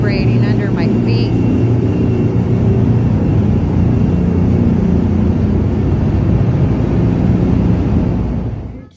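Air handler exhaust system aboard the battleship USS Wisconsin, a loud, steady roaring rush of moving air with a low rumble, continuous at close range before cutting off at the end, with brief voices near the start.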